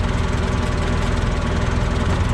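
A Fischer tractor-mounted hedge cutter (Lely Fisher hedgehopper) runs steadily with a continuous low engine drone and mechanical rumble, close and loud throughout with no pauses or talk.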